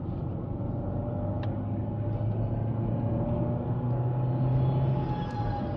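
A 1999 Renault Mégane Classic 1.6e RN Liberté accelerating on a country road to overtake a moped, heard as a steady, moderate engine drone with rising tone under road and wind rumble.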